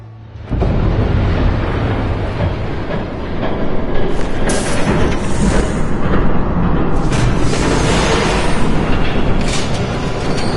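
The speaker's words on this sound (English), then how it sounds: "There's a train coming." A train in Batman: The Telltale Series rumbles loudly and steadily the whole way through, with rail clatter and a rising roar and hiss as it draws close, dense and continuous without a break.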